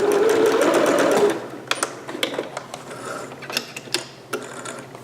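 A sewing machine stitches fabric for a performance gown in a steady whir for just over a second, then stops, followed by scattered clicks and taps of handling the machine and cloth.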